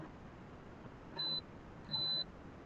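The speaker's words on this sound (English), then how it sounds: "That was my coffee pot telling me that it turned off." A coffee pot beeping after switching itself off: two faint, high electronic beeps, the second slightly longer, rising from a quiet room background.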